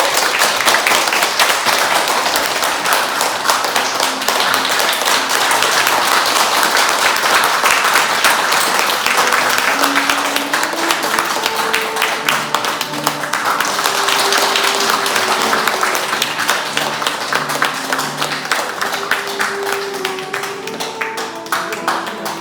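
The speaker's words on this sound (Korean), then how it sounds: "모두 다 큰 박수 좀 부탁드리겠습니다" An audience at an award ceremony held in a private room on the fourth floor of Seoul Station gives long, dense applause that stays loud and steady for over twenty seconds, easing slightly toward the end while faint tones and voices surface.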